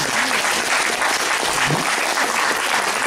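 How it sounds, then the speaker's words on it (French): A large audience applauds the speaker Alain after a talk, loud, dense and continuous clapping filling the room at a steady level with a few faint voices mixed in. "d'abord Alain que nous allons applaudir"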